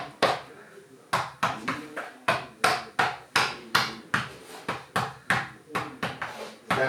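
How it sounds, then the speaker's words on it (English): Interlocking foam floor tiles about half an inch thick, pressed and snapped together on a floor, giving a rapid series of sharp, close thumps and claps in an uneven rhythm. "Snap them down, and we'll put them into place here."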